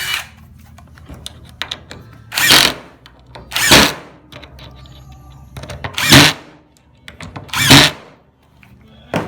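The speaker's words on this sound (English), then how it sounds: "then you can drill them in there" A power drill whirs in four short, loud bursts separated by pauses, driving screws into a wooden easel A-frame up close, with some clicking and handling noise between.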